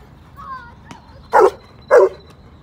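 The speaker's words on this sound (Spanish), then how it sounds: "No, no ladres, no ladres" A dog gives two sharp, short barks close by, following a faint whimper, with quiet room noise between.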